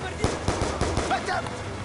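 Rapid gunshots from the video game Call of Duty Black Ops 2 crack out in a regular series of about four or five sharp bursts, each with a short echoing tail over low game ambience.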